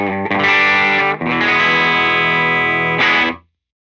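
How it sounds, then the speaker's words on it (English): A 1977 Gibson Les Paul Deluxe through a Dr. Z Carmen Ghia amp and an effects pedal rings out sustained, distorted chords with a chorus-like shimmer, loud and close, with a brief break before the last chord cuts off. "I have a 1977 Gibson Les Paul Deluxe, and I'm running into a Dr. Z Carmen Ghia"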